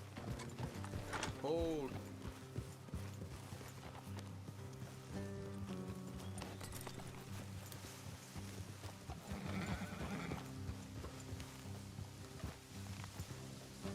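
Horse hooves clip-clop in a Western video game, a steady rhythmic plodding mixed with mechanical clanks and music, while someone briefly speaks over it.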